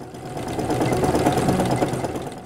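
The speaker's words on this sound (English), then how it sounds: "I'm adding a decorative stitch to the top of the pocket" Sewing machine stitching a decorative stitch across a fabric pocket on a yoga mat bag, a close, rapid rhythmic whirring clatter that holds steady for a couple of seconds without talking.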